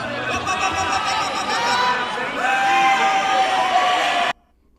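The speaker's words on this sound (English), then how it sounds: "This dude cheering in the background." A crowd in a county wrestling venue cheers and shouts in a steady, loud roar with whoops and overlapping voices, and then it cuts off abruptly into silence.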